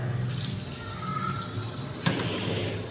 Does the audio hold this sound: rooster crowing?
no